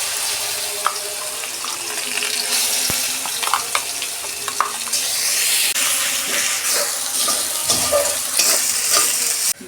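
Mashed vegetable bharta added to fried onions in a pan, frying with steady sizzling while a spatula stirs and scrapes, with intermittent clinks and knocks against the pan and no talking.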